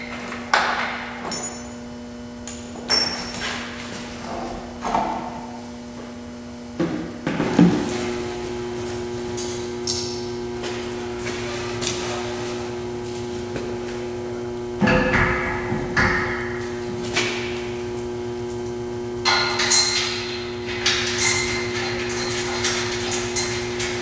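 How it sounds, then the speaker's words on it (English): Work to remove the bumper from a Jeep Wrangler brings scattered metallic clanks, knocks and scrapes over a steady background hum, with a few louder bangs spaced throughout. "then we can get this bumper off"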